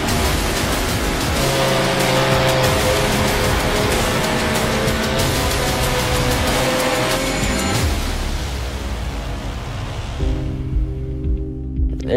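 Dirt midget race cars roar around the Limaland track in a continuous dense engine drone with shifting harmonic tones, loud and busy for most of the run before thinning near the end.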